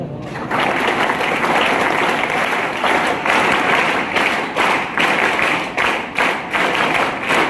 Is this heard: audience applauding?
yes